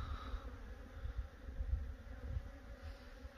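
Honeybees swarm around beehives, a faint steady buzz with soft low rumbling.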